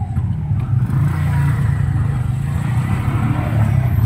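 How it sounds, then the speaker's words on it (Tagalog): Street traffic rumbles steadily nearby, with cars and motorcycles passing in a continuous low engine drone and no clear gaps. "Traffic natin dito."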